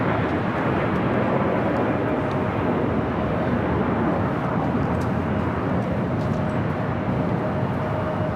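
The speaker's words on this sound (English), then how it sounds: "Next arrival on the north side is Southwest Airlines Flight 2217 coming in from Oakland, the 737 MAX 8" Southwest Airlines Boeing 737 MAX 8 arriving at LAX from Oakland: a steady, broad jet roar holds at an even level throughout, with a faint whine running through it and no voices.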